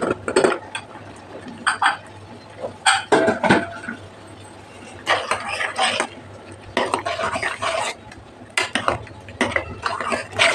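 A spoon scrapes and stirs pressure-cooked dal with ridge gourd inside a metal pot in repeated bursts, with clinking between strokes and short pauses, close and fairly loud.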